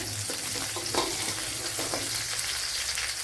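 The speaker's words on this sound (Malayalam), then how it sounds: "ഇത്രയൊന്ന് മൂപ്പിച്ചെടുക്കണം" Garlic, ginger and green chili sizzle steadily in hot oil for a Kerala soya chunks fry, with a dense, continuous crackle and a few soft stirring scrapes, close and alone without voices.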